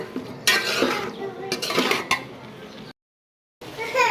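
Vegetables being stirred and fried in a cooking pot, with repeated scraping clatters of a utensil against metal and a soft sizzle, broken by a short gap of silence.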